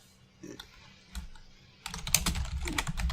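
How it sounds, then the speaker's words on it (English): Typing on a computer keyboard at a gaming podcast desk: a few scattered key taps at first, then a fast, close run of clicky keystrokes in the second half, with no talking. "I was just typing to my friend."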